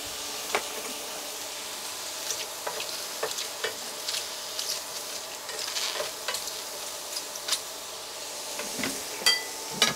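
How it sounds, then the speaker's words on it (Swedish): Schnitzels sizzle steadily in a hot pan, with occasional louder pops and scraping taps over the constant frying hiss. "Så nu ska snitslarna då steka ett par minuter per sida."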